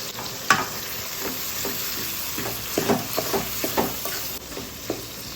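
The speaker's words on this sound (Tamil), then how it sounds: "எல்லாம் சேர்ந்து நல்லா வதங்கட்டும்" Tomatoes with salt and turmeric frying and sizzling in a pan with a steady hiss, broken by a few clinks and scrapes of stirring, close up.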